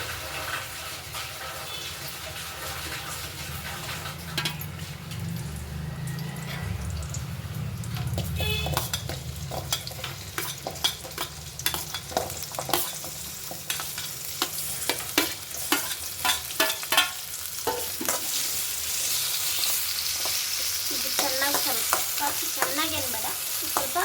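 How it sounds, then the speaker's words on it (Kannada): Chopped onion and curry leaves frying in hot oil for a sambar tempering, a continuous sizzle that grows busier as a spatula repeatedly scrapes and stirs the pan, close and steady for the whole stretch with no talk. "ಇದೆಲ್ಲ ಫ್ರೈ ಮಾಡ್ಕೊಳ್ಳೋಣ ಬನ್ನಿ"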